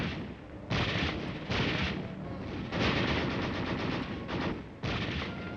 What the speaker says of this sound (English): red artillery making an inferno of the city